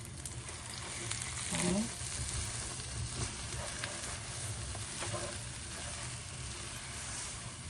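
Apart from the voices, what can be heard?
dal cooking in pan with sugar added, sizzling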